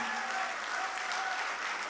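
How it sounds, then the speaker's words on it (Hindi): An audience at a nazm poetry recitation breaks into sustained applause, an even, dense wash of many hands clapping at a steady level throughout, with a faint hum beneath. "मुझे एक बार जोरदार ताली बजा करके हुक्म दीजिए"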